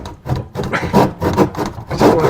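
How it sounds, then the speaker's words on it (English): A sharp handsaw cuts wood while trimming the corners of a cold frame, making five or six quick, rasping strokes close up at a steady rhythm. "I'll just do that with a handsaw real quick"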